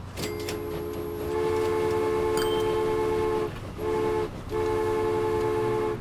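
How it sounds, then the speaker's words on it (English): Game train in Transport Fever sounds a sustained horn chord over a steady engine rumble, the horn breaking off briefly twice before resuming, loud and close with no talk. "We have a new train line going from Chicago down here to Cincinnati."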